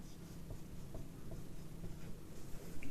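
Chalk or marker writing on a board during a biochemistry lecture on carbohydrates, a series of faint short strokes and taps spaced unevenly over a low room hum, with no talking.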